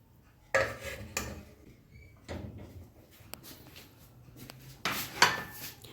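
Dishes and cutlery clink and clatter while chicken tahari is plated in a home kitchen, with a few sharp close knocks and scrapes spread between quieter pauses, with no talk.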